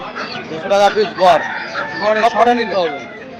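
Chickens cluck and a rooster crows amid the bustle of a rural Bengali animal and bird market, several close calls rising in short bursts over steady crowd chatter and nearby talking.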